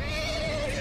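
A horse whinnies in the Game of Thrones video game, a single sustained, wavering neigh with a steady tone that runs loud and close for just under a second over a dense game backdrop.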